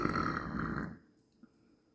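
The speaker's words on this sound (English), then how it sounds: "Wow, that's burps." A loud, drawn-out belch fills the first second, then trails off into quiet with a small bump near the end.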